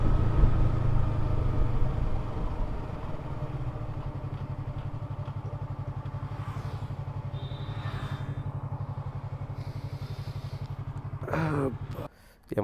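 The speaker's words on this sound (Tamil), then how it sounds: "Yamaha R3" A Yamaha R3 motorcycle idles nearby in a steady, even low rumble that holds for most of the stretch before cutting off abruptly near the end.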